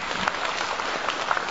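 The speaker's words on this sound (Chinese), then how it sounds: "我们掌声有请 小雨" Audience applause welcoming a guest at a fan meet-and-greet in Suzhou, a dense, steady patter of many clapping hands filling the room for a moment.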